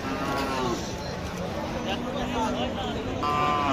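Cattle low repeatedly at a busy livestock market, with several moos rising over a constant background of crowd babble and distant voices.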